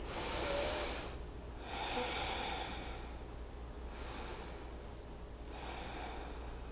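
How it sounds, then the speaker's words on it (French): Slow, deep breaths during a yoga stretch for sciatic relief. Four long, soft inhales and exhales come through close and quiet, each lasting about a second, with a pause between them and no voices. "Respire, 3 grandes respirations vers l'abdomen et le côté gauche."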